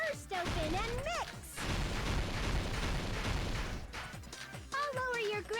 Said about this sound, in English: Could the explosion sound be any louder?